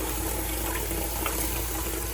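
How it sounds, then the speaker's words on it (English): Tap water runs steadily from a faucet to rinse hornwort aquarium plants, a constant close hiss and splash with no break. "And I'm going to run some clean. It's just tap water."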